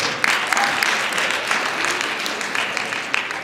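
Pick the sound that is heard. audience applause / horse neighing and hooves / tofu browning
audience applause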